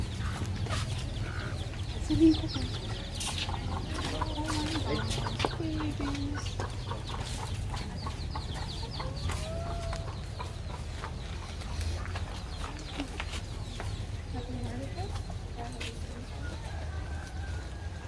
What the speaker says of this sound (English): They're ducks.